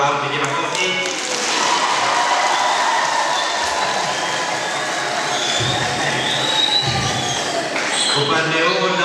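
Crowd at a parish thanksgiving Mass in Matola breaks into loud, sustained clapping and cheering that fills the whole stretch, with voices mixed in.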